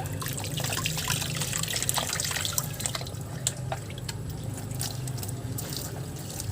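Water pours into a handheld foam sprayer with a steady trickling and splashing, fairly close and constant, with no talking.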